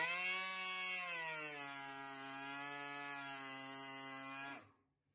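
An air-powered tool post grinder mounted on a lathe, fed from an air compressor, screams with a loud, steady high-pitched whine whose pitch dips slightly, then cuts off abruptly near the end.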